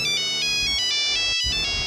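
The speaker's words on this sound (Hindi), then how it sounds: "अचानक मेरा मोबाइल बजा" A mobile phone ringtone plays a repeating electronic melody, bright and clear, with a brief dropout near the end.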